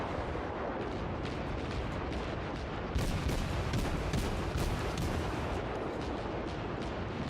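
German tier 3 cruiser guns in World of Warships fire in a heavy naval battle, a continuous barrage of booming salvos layered over rumbling explosions, loud and dense throughout with no talking.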